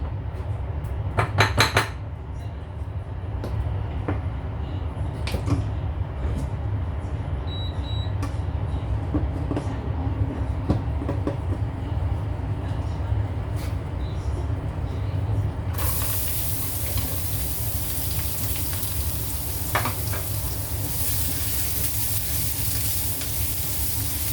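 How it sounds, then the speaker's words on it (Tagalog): Ground pork sautéing in a pan, with a steady low sizzle throughout and scattered clinks and scrapes of a utensil against the pot, busier near the start. "Magigisa tayo ngayon ng karne."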